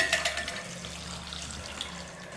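Water runs steadily into a pot of sambar, a continuous splashing pour heard close up with no voices.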